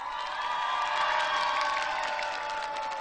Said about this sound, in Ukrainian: від ваших оплесків вигуків буде залежати, хто переміг в двобої